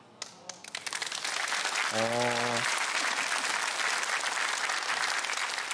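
A studio audience at a Korean KBS lecture program bursts into applause, starting with a few scattered claps and swelling into loud, sustained clapping; a brief tonal voice or cheer rises through it early on.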